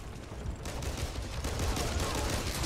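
Sustained automatic gunfire in the Back 4 Blood video game, a dense wash of rapid shots that grows slightly heavier partway through and stays fairly constant throughout.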